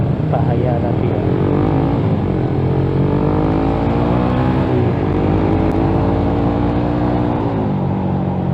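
Suzuki GSX-S150 motorcycle fitted with a loud Quinze big-volume aftermarket exhaust, engine droning steadily with repeated rising revs and gear-shift drops, close and continuous throughout.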